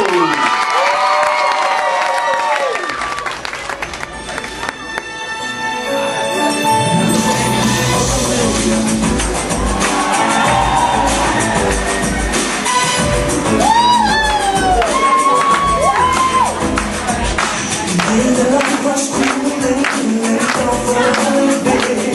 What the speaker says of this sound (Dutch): applaus voor Tito